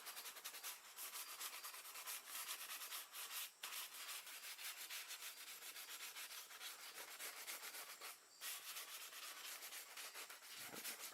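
Sandpaper rubs over a 1996 SN95 Mustang spoiler being prepped for repaint: a close, steady, rapid back-and-forth scratching that runs almost without a break, with only a few brief pauses.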